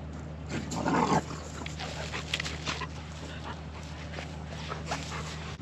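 A dog whimpers and yips in short bursts on a farm near water and a pasture, its whines rising over a steady low background hum, fairly faint.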